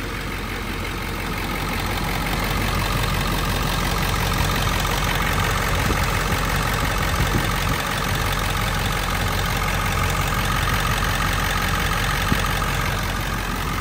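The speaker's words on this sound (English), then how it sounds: "It just sounds like a semi truck with really low, nice low RPM idle." A 7.3 diesel truck engine idles at low RPM, a steady, loud, rumbling chug with a deep clatter that holds evenly for the whole stretch with no talking.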